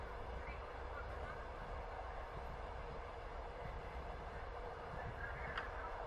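A night train rolls steadily along the rails on a winter journey, giving a soft, continuous low rumble and hum with a faint high squeal near the end.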